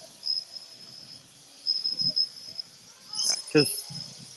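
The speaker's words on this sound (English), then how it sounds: "that is the loudest cricket I've ever heard" A very loud cricket chirps at Disney's Animal Kingdom, a steady, shrill, repeating trill that carries clearly through the outdoor scene while people talk nearby.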